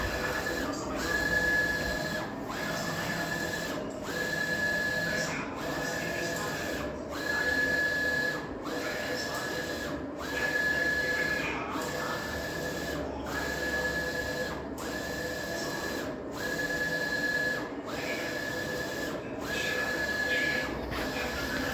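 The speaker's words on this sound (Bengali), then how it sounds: "দেখেন কি সুন্দরভাবে মেশিনটা এত সুন্দরভাবে নিখুঁতভাবে এত ক্লিয়ারভাবে লেখাগুলো লিখতেছে কম্পিউটারের মাধ্যমে" A computer-controlled machine prints lettering for a new shop signboard, running in a steady mechanical cycle with a whirring pass and a brief high whine repeating about every second and a half, close and continuous.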